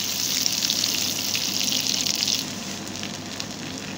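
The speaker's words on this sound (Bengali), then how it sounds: "লবণ হলুদ মাখিয়ে আমি কড়াইতে তেল গরম করে তার ভিতর ছেড়ে দিয়েছি। এইভাবে একটু নাড়াচাড়া করে ভেজে নেব পটলটা।" Sliced pointed gourd (potol), coated in salt and turmeric, frying in hot oil in a kadai with a steady close sizzle and hiss that eases slightly midway, with no talking.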